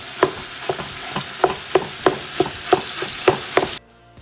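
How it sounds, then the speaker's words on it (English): Ground meat browns in a pan after onions, with a steady sizzle broken by regular utensil taps about every half second as it is broken up, ending abruptly. "We're gonna brown the meat. Just break it up, put it in."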